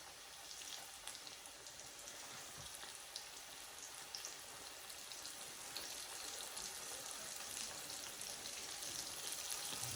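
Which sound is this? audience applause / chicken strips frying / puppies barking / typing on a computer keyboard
chicken strips frying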